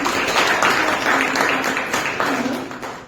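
An audience at a Toastmasters club meeting applauds the Sergeant at Arms, a dense steady wash of clapping that stays loud and even throughout, with a few voices faintly mixed in.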